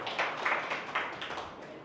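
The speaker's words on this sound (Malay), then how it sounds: "Jadi satu tepukan untuk diri sendiri dulu." An audience at an Amway business seminar claps for itself, a short burst of scattered applause from a modest crowd that fades within two seconds.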